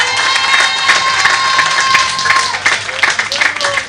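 At a UNC local government political meeting in Arima, a crowd claps and cheers loudly with whistles and shouts rising over continuous applause, while some voices call out in the mix.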